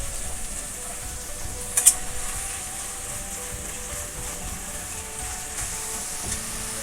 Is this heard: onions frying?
yes